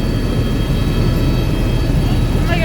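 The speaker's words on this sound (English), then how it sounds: "This is the quietest helicopter of its class in the world." Loud, steady whirring drone of a sightseeing helicopter in flight over Niagara Falls, heard from close by, a constant engine and rotor roar with faint tonal whine on top.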